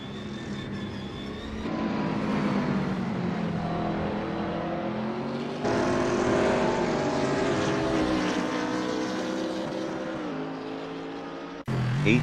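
A BMW Z4 GT race car engine racing online at Mugello in Assetto Corsa, loud and close, its pitch climbing steadily and dropping sharply at each gear change.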